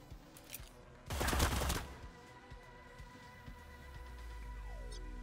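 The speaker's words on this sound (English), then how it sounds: "I guess she's shooting under the platform." A brief burst of rapid gunfire from the Xcom-style shooter game Cyber Knights, a dense rattling volley lasting under a second, followed by quieter game ambience and a low rising hum.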